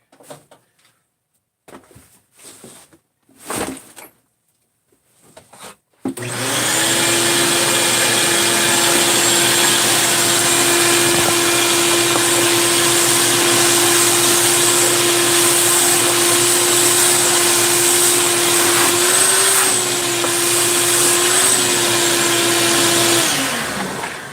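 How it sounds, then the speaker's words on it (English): A vacuum cleaner switches on after a few scattered knocks and handling noises, then runs as a loud, steady drone for about eighteen seconds in a junkyard work area, its pitch wavering briefly before it winds down. "hit this with the vacuum real quick."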